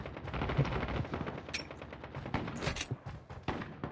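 Rapid bursts of gunfire in a Call of Duty Mobile match, including distant sniper shots, crack out in an irregular stream of sharp reports over game ambience, with no voices heard.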